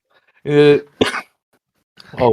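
One sharp, close sneeze bursts out between short voiced sounds in a quiet room.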